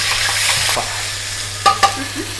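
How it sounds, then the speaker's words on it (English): Garlic ginger paste sizzles in hot oil in a pan over medium heat, with a bright steady hiss, some soft stirring early on, and two sharp utensil knocks near the end. "We've got some oil in the pan. It's on a medium heat, and to that we're going to add a little bit of garlic ginger paste"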